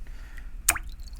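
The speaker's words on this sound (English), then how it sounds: "I'm going to add water to it" A single small drop of water falls into paint with a brief, close, wet plop against a faint, quiet background.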